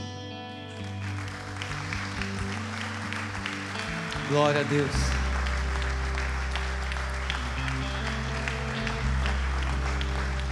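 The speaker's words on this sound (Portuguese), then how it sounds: "quero convidá-los a dar uma salva de palmas para vocês" Audience applause at a church conference, steady broadband clapping running through most of the stretch beneath a sustained low musical drone, with a voice speaking over it.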